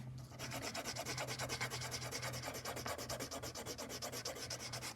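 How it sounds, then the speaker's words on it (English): A pencil shading rapidly across paper, a close, rhythmic scratchy rubbing in quick strokes, steady and unbroken, with a low hum underneath. "hate hearing the sound of this pencil"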